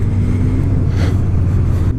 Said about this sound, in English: This is wheeling with half throttle, and it lets you wheel.